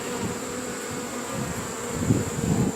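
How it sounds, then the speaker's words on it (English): A swarm of honey bees packed inside a trap box, buzzing in a steady dense drone close up, swelling slightly louder toward the end, with no voices. "once again, there are so many bees in here"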